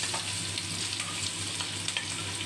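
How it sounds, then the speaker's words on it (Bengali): Chopped onion frying in hot oil in a wok, a steady close sizzle and crackle throughout, with faint stirring. "এবার পেঁয়াজ কুচোটা ওর মধ্যে দিয়ে দিই"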